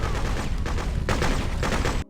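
Rapid automatic gunfire from weapons in the video game Freedom Fighters rattles loud and close in dense overlapping bursts for about two seconds, then cuts off abruptly.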